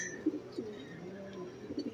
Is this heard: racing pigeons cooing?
yes